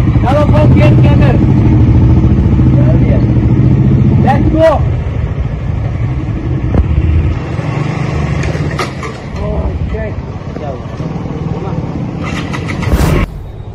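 Two motorcycles, a KTM RC and a Hero Shine 125, rev loudly in a tug of war, with steady engine drone throughout and a few throttle bursts, while a person talks over the noise.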